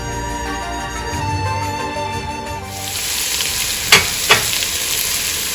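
Onion and curry leaves fry in a pan for chicken curry, a loud steady sizzle close by, with two sharp scraping clinks of a spoon stirring near the end.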